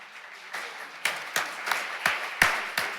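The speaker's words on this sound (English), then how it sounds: "So may I please have a big round of applause for Miss Irena Connolly" Sparse applause at a restorative justice community court graduation ceremony: a few people clapping in separate, spaced claps that rise in level after the first second, modest and fairly close.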